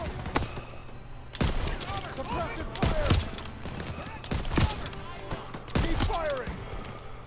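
Gunfire in the World War II shooter Call of Duty WW2 during a campaign battle, with repeated loud bursts of rifle and machine-gun fire, sharp individual shots and voices calling out between volleys.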